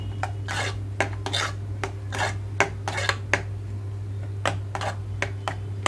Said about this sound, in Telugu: ఆకంతా కూడా ఒకసారి కలుపుతున్నాను పప్పులో